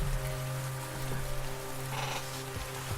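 Steady rain falling on surfaces, a dense close patter with a low background hum and no voices.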